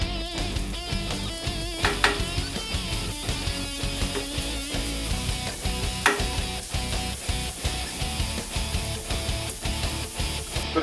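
Onions sizzle in oil on a Vevor 22-inch 1600W electric flat top griddle, a dense, crackling fry with scraping and clattering spatula hits throughout.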